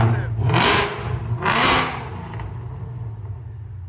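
A supercharged 770 hp Ford Mustang GT with a 5.0L V8 and its Valvetronic exhaust valves open gives two sharp, loud revs in quick succession, then settles back to a low idle rumble.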